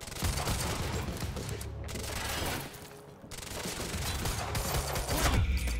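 Sustained gunfire in the Quantum Break video game, with dense overlapping volleys and bursts that keep going for the whole stretch. It is loud and close, dips briefly in the middle, and has no clear speech over it.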